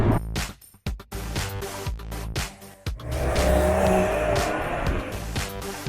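A Porsche 911 pulls away from a standstill, with a sharp burst of engine revs rising into a sustained, loud roar and some tire noise as it drives off close by.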